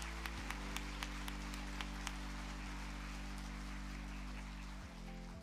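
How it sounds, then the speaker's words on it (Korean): A ceremony audience at a Korean Construction Day event applauds in a faint, distant, steady patter of clapping over a low electrical hum. "여러분 큰 박수 부탁드리겠습니다."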